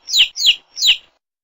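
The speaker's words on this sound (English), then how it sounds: "A chick comes out of its shell." A baby chick chirps three times in quick succession, each peep high, bright and close, followed by silence.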